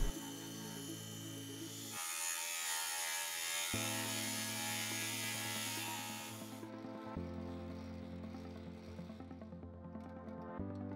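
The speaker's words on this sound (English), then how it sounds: "Turning these large pieces of brass and copper on my tiny lathe was really pushing it" A tiny lathe turns large pieces of brass and copper with light cuts, giving a close mechanical whir and rattling drone that shifts in pitch and character across several stretches.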